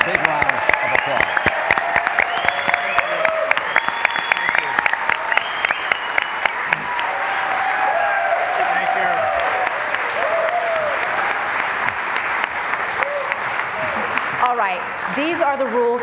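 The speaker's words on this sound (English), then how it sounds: "So let's give everyone a big round of applause." Audience applause for candidates at a Democratic gubernatorial debate, a dense, sustained round of clapping that carries on steadily before fading, with voices mixed in underneath.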